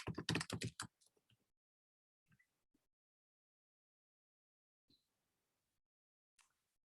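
A burst of rapid typing on a computer keyboard, a quick cluster of clicks at the start followed by a few sparse, faint isolated keystrokes spread through otherwise near-silence.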